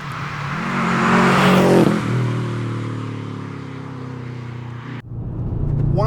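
A turbocharged Subaru Impreza WRX engine revs hard right up to the red line, its pitch rising into a loud, steady high-rpm drone before cutting off abruptly near the end, heard close and without talk.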